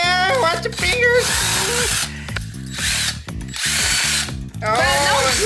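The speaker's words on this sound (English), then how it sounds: "This rock think it can defeat me, but no, it can't, because I have my drill." A toy drill grinding into a rock from a fossil dig kit, a loud, buzzing, ratcheting whir that runs in bursts, with excited voices talking and exclaiming over it.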